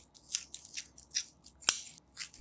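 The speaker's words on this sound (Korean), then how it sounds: "준비한 소고기 등심 400g은 핏물을 제거하고 붙어있는 떡진 기름을 잘라낸 후" Fat is trimmed off 400 g of beef sirloin in a string of crisp, close snips, about seven cuts at an uneven pace with one sharper cut near the middle, and no talking.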